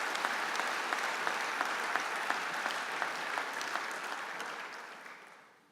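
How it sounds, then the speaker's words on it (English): A big audience applauds volunteers at a sports event hosted by the Minister for Sport and Recreation, steady dense clapping that holds for several seconds and then fades out toward the end. "can I just ask for a big round of applause for all of those volunteers that make this happen"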